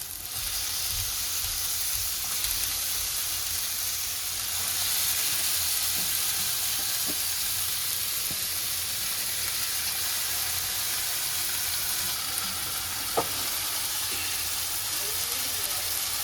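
Marinated chicken fries in a spice masala for chicken kosha, with a constant hissing sizzle from the pan throughout and occasional faint clicks of a utensil.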